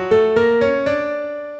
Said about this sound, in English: the augmented scale, which is a 6-note hexatonic scale that sounds like this